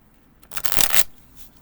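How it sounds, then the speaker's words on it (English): A single quick riffle of a card deck, a dense crisp burst lasting under a second, close and clear against a quiet background. "let's go ahead and shuffle and pull a card."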